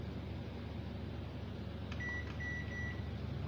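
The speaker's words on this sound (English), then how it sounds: "put it in microwave. This is my microwave." A home microwave oven hums steadily throughout with a low, continuous drone, joined near the end by a few short electronic beeps from the control panel.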